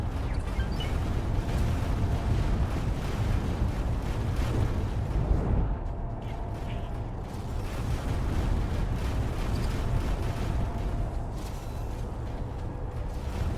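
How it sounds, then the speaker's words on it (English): Heavy rumbling explosions and mechanical clatter in a Terran-themed space strategy game, a loud continuous roar of blasts and gunfire with no talking. "Explosion imminent."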